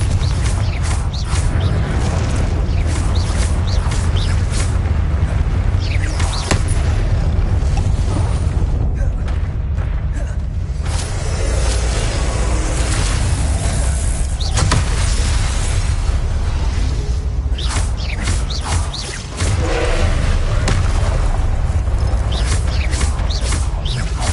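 Blasting spell explosions from Hogwarts Legacy, dense and loud, erupting repeatedly amid continuous game combat noise with sharp bursts and crackles layered over a booming low rumble throughout.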